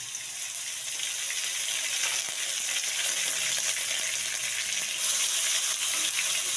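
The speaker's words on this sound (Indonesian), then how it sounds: "minyaknya panas, kita masukkan bawang putihnya. Bawang putih halus." Steady, loud sizzling of minced garlic frying in hot oil, a continuous crackling hiss with no voices.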